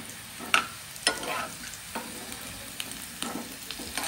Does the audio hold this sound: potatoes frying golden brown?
yes